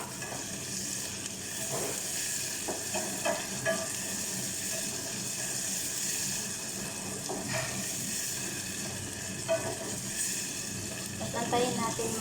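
Tomatoes tossed into a pan of reddened sautéed onion and garlic for a squash stew (ginisang kalabasa), giving a continuous close sizzle with scraping bursts of stirring throughout.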